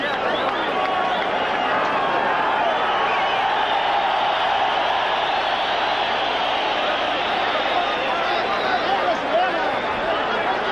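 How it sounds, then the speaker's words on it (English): A huge boxing crowd in Mexico City roars continuously and loudly, a dense, sustained wall of cheering with commentary over it. "hearing the roar of this big crowd in Mexico City"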